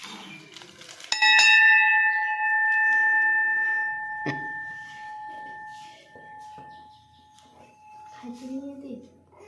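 A metal temple bell rings out sharply with a long ringing decay, then is struck again, with voices chanting and talking around it.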